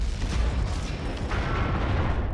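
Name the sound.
cannon firing in video game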